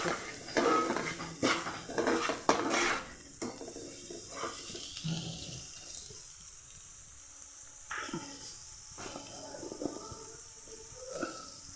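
Chili, turmeric and coriander powder stirred into onions in a pan for a prawn dish, with a metal spoon scraping and clattering busily for the first few seconds before the stirring grows quieter and sparser.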